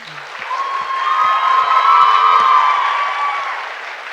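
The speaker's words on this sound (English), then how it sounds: "They all deserve a big round of applause." Audience at an arangetram dance performance in Louisville, Kentucky breaks into loud, sustained applause that swells and holds, with some crowd noise over a steady tone.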